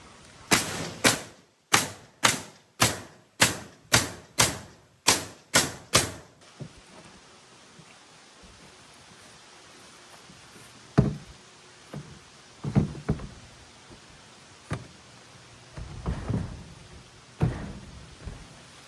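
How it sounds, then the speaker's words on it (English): A pneumatic air nail gun drives nails into the upper framing of a 36-inch service door: about eleven sharp, evenly spaced shots in quick succession, close and loud, followed by scattered duller thuds and knocks. "So I'm gonna take the air gun, just put some nails in there."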